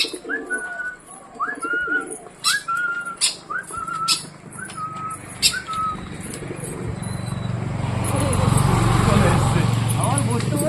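A white-faced pet pigeon calls in a run of short rising coos and whistles, close and clear, before a louder broadband rustling noise takes over near the end, with speech in the background.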